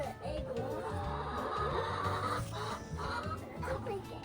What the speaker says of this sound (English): I think our chicken is laying an egg.